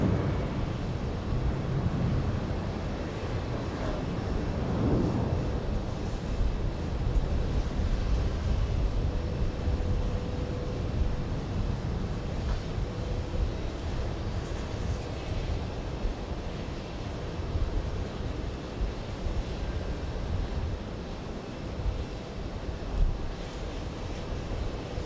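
American heavy jet departing JFK, a low rumbling engine roar that swells early on and then holds as a broad, distant drone mixed with wind buffeting on the microphone.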